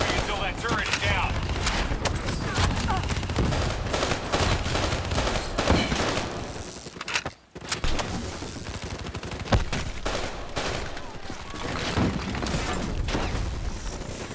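Turret gunfire in Call of Duty: Black Ops 3, with dense rapid bursts of shots and booming impacts running almost continuously, briefly cutting out midway, with voices talking over the combat.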